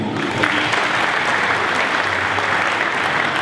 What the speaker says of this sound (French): Vous pouvez vous applaudir d'ailleurs